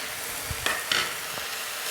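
Tutti frutti is stirred into sweet rice in a pan, giving a few soft scraping strokes over a low steady sizzle.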